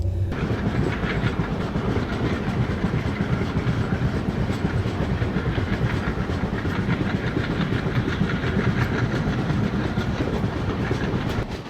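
Passenger train running on the Jaipur to Hyderabad line, heard from inside a coach near Akola and Shegaon: a steady loud rumble with a continuous rhythmic clatter of wheels on the rails.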